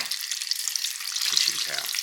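Food deep frying in hot oil gives off a steady, close, bright crackling hiss with dense fizzing pops throughout and no talk over it.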